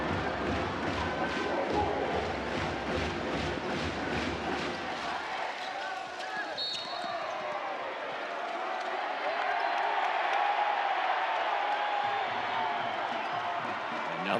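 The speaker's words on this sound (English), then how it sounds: "Crowd cheers as Semiglia whistled for the foul." A crowd at a professional basketball quarter-final roars through a rhythmic stretch with a steady pulse, then settles into a broad, sustained murmur of cheering in a big arena.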